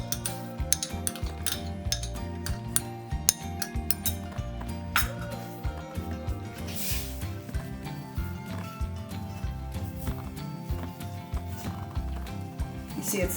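Metal spoon stirring a strawberry cornstarch sauce in a pan, quick irregular clinks and scrapes against the pan over a soft simmering bed, close and moderately quiet.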